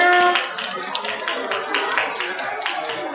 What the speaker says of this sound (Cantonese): 俾多次熱烈嘅掌聲佢哋啊